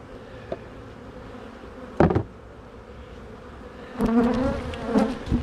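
Bees hum in a continuous close drone, with a few sharp knocks and louder bursts of buzzing, like wooden parts of a hive being handled.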